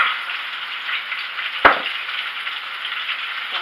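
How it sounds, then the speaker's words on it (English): Soy sauce fries in hot oil with a continuous loud crackling sizzle, broken by one sharp splattering pop partway through. "And I'm going to add this to my hot oil. And I'm going to let that cook. And you just keep adding the soy sauce."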